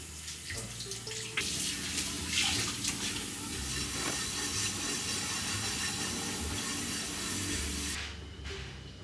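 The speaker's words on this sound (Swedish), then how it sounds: "Och det är att ta all disk och städa här i köket." Dishes are washed under a running kitchen tap: a steady rush of water with clinks and clatter of crockery, fairly close, until the flow stops near the end.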